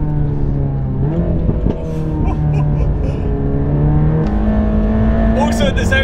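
A 2021 Mercedes-AMG GT Black Series engine is held at full throttle, its loud, steady drone climbing through shifts in pitch with a driver's voice over it.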